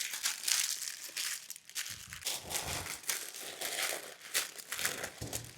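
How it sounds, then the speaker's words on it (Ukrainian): Baking parchment crinkles and rustles up close as it is folded around ribs, in steady crumpling bursts with a few heavier crushing sounds. "спочатку беремо паргамент, виставляємо сюди ребра, закрили"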